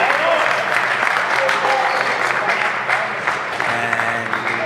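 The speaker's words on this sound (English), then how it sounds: "And there you see the applause." Spectators applaud after a rally in a professional squash semi-final at the Namibian Open, a sustained, fairly loud wash of many hands clapping with some crowd voices mixed in.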